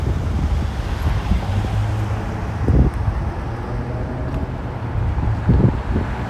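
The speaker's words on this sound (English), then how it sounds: "And sorry about the wind noise." Wind buffeting a microphone outdoors in New York City, a constant low rumble and roar with a few louder gusts, no talking.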